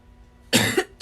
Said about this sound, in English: Excuse my coughing, I'm sorry.